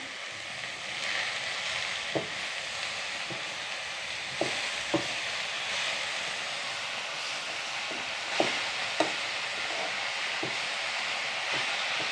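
Spinach (cheera) stir-fries for thoran in a pan on the stove, giving a steady sizzling hiss with occasional clicks and taps from stirring.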